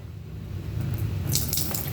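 Water poured over makeup brushes in a container, a close, steady splashing wash building in the second half with brighter spattery bursts, no talking.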